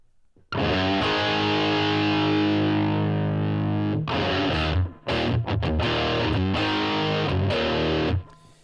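An electric guitar through a Marshall amp model on a Line 6 Helix rings out with a sustained distorted chord, then a series of choppy, chugging strums before stopping.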